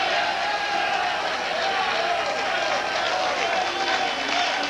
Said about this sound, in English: We're cheering like hell here